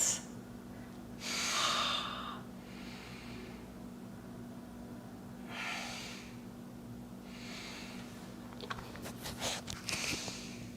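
Slow, deep breaths during a forward fold in a yoga class, with several soft airy inhales and exhales spaced a few seconds apart, close and quiet, followed by a few faint rustles.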